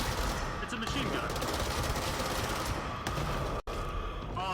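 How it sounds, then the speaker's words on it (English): Sustained machine gun fire in the video game Control, a dense, loud burst of rapid rattling shots that fills the clip over a busy game soundtrack. "It's a machine gun."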